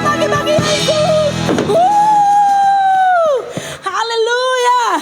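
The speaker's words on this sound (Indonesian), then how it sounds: "tepuk tangan lebih dahsyat lagi bagi Yesus" Congregation at a Sunday worship service at Bethany Church in Denpasar, Indonesia, cheering and shouting loudly for Jesus. Sustained yells and whoops ring out over crowd noise, with a brief dip before another loud shout.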